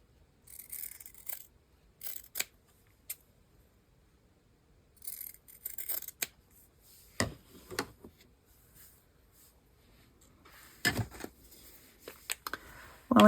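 Scissors cutting fabric tickets and labels, heard as scattered close snips and rustling paper-like handling in short clusters, separated by quiet gaps.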